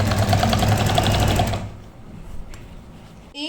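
Sewing machine stitching the folded hem (daman) of a kameez, a fast, even run of needle strikes that stops abruptly halfway, leaving faint room noise and a small click.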